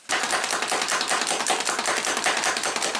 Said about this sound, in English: So now I'm going to chop these up.